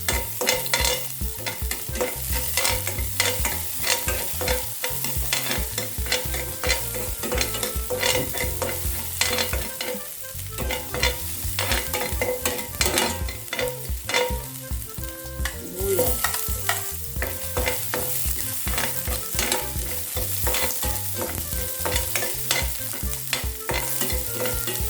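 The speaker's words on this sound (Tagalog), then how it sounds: "Ngayon guys, magigisa na tayo guys ng bawang." Garlic sautés in a pan with continuous sizzling and rapid, rhythmic scraping and clinking of a spatula stirring throughout, close and busy from start to finish.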